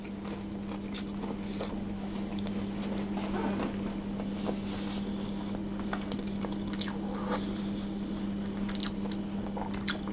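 Close-up biting and chewing of a raspberry muffin with a crunchy coarse-sugar top: soft crunches and moist squishy chewing sounds repeating over a steady low hum, no talking.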